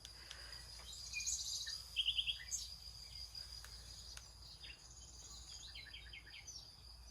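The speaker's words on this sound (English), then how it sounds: "The sound of the birds woke her up." Birds chirp outside in short, quick trills and scattered tweets, fairly faint and distant over a steady insect drone, with no talking.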